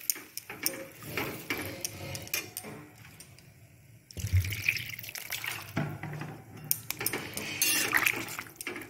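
Water pours and splashes into a cooking pot of shukto in a home kitchen, in several uneven bursts with a short quiet gap midway, close and moderately loud with utensil clinks and no talking.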